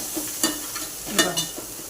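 Spiced mixture being stir-fried in a pan for a sprouted mung bean curry, with a steady low sizzle and a few scraping stirs of the spoon against the pan.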